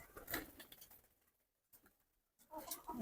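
Pigeons coo softly at close range, a few low murmuring calls with brief patters and quiet gaps between them, faint overall.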